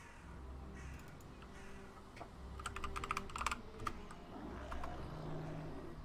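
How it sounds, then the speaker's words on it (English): A crow caws in the video game Valheim, faint and in the background, under bursts of close computer keyboard typing. "Yes, I know there was a crow there."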